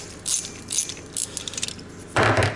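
A ratchet clicks as it tightens down a brake pedal modification, short bursts of metallic clicking close by, ending in a louder rasping pass, with no talking.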